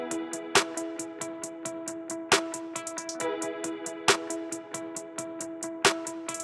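Programmed beat of reverb-drenched snare hits spaced about every two seconds, with rapid hi-hat rolls ticking between them over a sustained melodic guitar-like bed, all instrumental with no voices.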